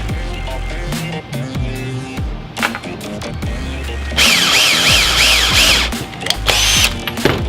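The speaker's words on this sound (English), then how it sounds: "we're gonna use a 1/4-inch drill bit on this" A power drill with a 1/4-inch bit bores into plastic, sounding as repeated loud whirring bursts that start and stop, with one longer high-pitched spell of grinding near the middle.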